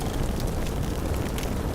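In the Combat Mission Market Garden video game, an explosion destroys a Daimler armoured car, heard as a dense, roaring rumble of broadband noise that holds steady and loud throughout, with no voices.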